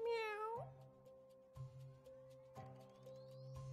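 Several cartoonish cat meows in The Cat Machine puzzle game, one long bending meow at the start followed by shorter repeated mews over a low steady game tone, fairly quiet.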